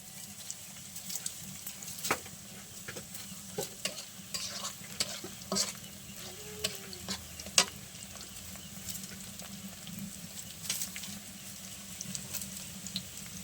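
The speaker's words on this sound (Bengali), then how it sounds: "তো মা এখানে যে হাঁসের গোশ রান্না করার জন্য তেল আর পেঁয়াজ দিয়ে দিয়েছে, ভেজে নিচ্ছে।" Onions fry in oil over a firewood cooking fire for a duck meat curry, giving a soft, continuous sizzle broken by scattered spoon scrapes and small pops.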